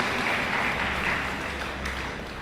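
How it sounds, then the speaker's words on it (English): Audience applause at a memorial evening of reflection, a steady dense wash of clapping from a crowd, moderately loud and continuous without speech. "Let's have another round of applause."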